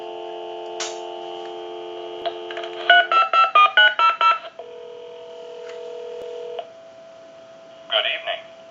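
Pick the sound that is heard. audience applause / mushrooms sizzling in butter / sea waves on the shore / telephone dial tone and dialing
telephone dial tone and dialing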